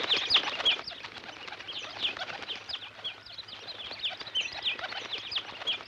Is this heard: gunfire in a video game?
no